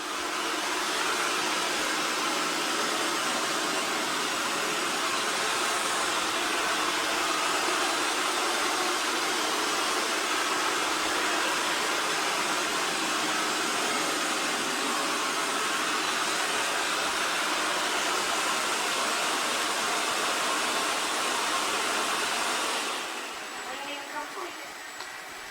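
An EXTRAVIS V5 PRO robot vacuum and mop combo with 10000Pa suction runs at full power, a loud, steady broadband whoosh that holds for over twenty seconds before dropping off near the end.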